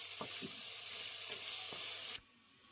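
Tomatoes with salt and turmeric cooking in a pan: a close, steady sizzle with a few soft stirring scrapes, cutting off abruptly near the end.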